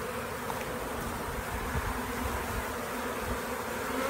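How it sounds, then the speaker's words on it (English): A steady, dense buzz of a swarm of honey bees on a mailbox hums continuously, close by and unbroken, with no voices. "the bees are marching at the side of the box"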